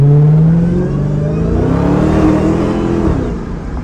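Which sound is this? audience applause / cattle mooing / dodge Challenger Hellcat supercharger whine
dodge Challenger Hellcat supercharger whine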